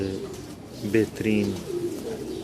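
A pigeon coos a few soft, low throaty notes close by, under a voice speaking Hindi-Urdu.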